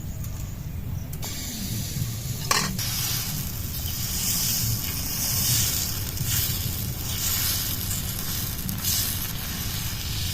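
Veg chop style potato fritters deep-frying in oil, a steady broadband sizzle and hiss running the whole time with a brief sharp clatter near the start, no talking.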